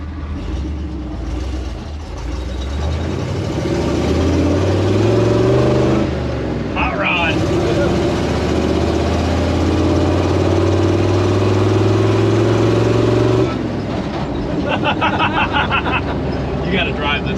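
The engine of an old abandoned Dodge Power Wagon, fitted with a custom exhaust, runs loudly and revs, rising and falling in pitch, while people talk nearby over the steady rumble.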